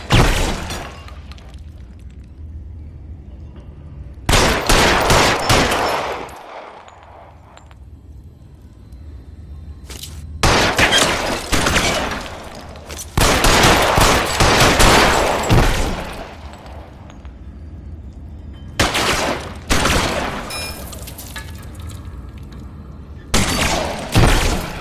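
Gunfire in the L.A. Noire video game: loud, harsh bursts of shots and impacts in several clusters, separated by quieter stretches of low background rumble.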